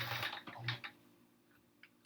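A sewing machine stitches quilt rows with its presser foot tension reduced, giving a short run of quiet mechanical whirring and ticking that fades into faint clicks.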